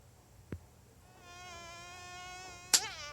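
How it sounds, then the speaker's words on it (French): Cartoon fly buzzing in an animated show: a steady, thin whine that rises and holds for about two seconds, ending in a sharp slap, with a soft thud earlier and no talk. "Oh oui, il y a une mouche."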